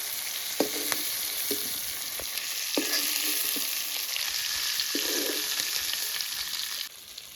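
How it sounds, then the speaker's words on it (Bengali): Prawns frying lightly in oil, a bright steady sizzle with repeated knocks and scrapes of a spatula against the pan, the hiss cutting off abruptly near the end. "চিংড়ি মাছটা হালকা করেই ভাজবো"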